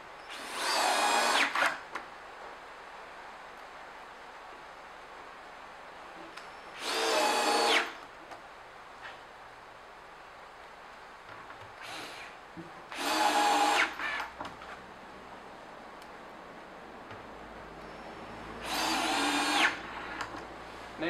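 Power drill driving screws into a cabinet back during assembly, four separate short bursts of whirring spaced several seconds apart, each rising then cutting off, with quiet room tone between.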